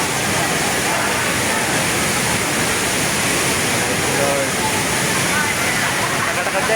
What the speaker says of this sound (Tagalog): Dito Mabo Mother Falls, San Luis, Aurora Province.